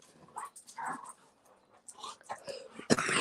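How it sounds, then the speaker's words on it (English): Two dogs play together in the background, giving soft whimpers, whines and small yips in irregular bursts, fairly faint, with brief scuffling near the end. "Listen to these two dogs."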